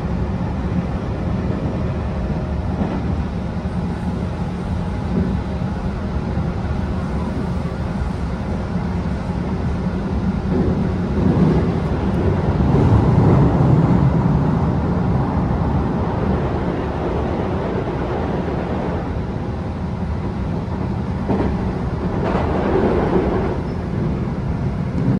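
A JR 221 series train rumbles steadily through stations on a rapid service, heard from inside as a constant loud roar of wheels and motors with a swelling passage midway, no talk.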